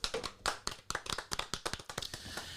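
Sparse, uneven hand claps from a small group, a couple of dozen sharp close slaps over a few seconds cheering on Billy, with no talking.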